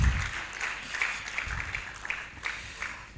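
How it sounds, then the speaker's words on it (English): Applause from a conference audience at a national extractives dialogue in a hotel hall: a steady, moderately loud wash of many hands clapping for about three seconds, with no talk over it. "Please, another round of applause for him."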